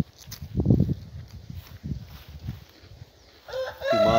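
Chickens cluck and murmur quietly nearby on a rural smallholding, then a rooster crows loudly near the end, its call rising clearly over the soft clucking.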